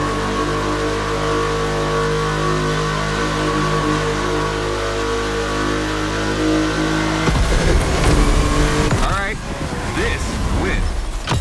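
A Porsche 911 racing in the video game The Crew Motorfest: a loud, sustained engine drone holds steady, then shifts abruptly partway through into rougher, changing revs.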